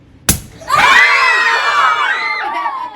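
A single sharp pop as a lid bursts off a bottle during a classroom air-pressure cloud demonstration, followed at once by a group of children shouting and cheering loudly.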